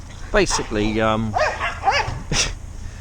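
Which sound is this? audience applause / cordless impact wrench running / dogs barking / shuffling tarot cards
dogs barking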